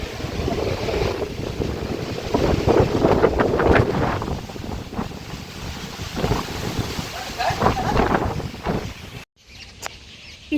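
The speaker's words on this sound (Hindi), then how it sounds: "इतनी तेज आंधी आई, क्या बताऊं।" Strong windstorm roaring and gusting steadily into the microphone with heavy buffeting rumble. It is loud and close, then cuts off abruptly near the end.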